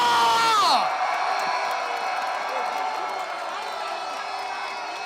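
Rally crowd cheering and whooping in a broad, sustained roar, loud at first with a sharp pitched swell that drops away, then settling into steady distant cheering for the rest.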